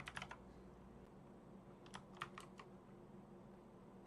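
Quiet computer keyboard typing during Blender video editing, a few quick key clicks at the start and another short burst in the middle over faint room hum.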